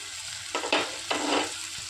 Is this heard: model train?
no